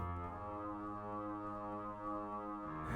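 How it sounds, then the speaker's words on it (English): Muted French horns and a muted bass trombone sustain a steady, dark, buzzy chord in an orchestral score, soft and continuous with a slight swell at the end. "And then horns muted, and also bass trombone muted."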